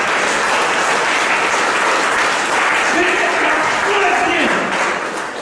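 Church congregation applauding and cheering for Jesus during a service, loud sustained clapping with shouts and a voice rising over the crowd throughout.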